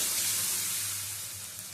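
Ground ginger, garlic, green chilli, cumin, poppy seed and coriander paste sizzles steadily in a little hot oil for an egg curry, a dense, close hiss that slowly eases off.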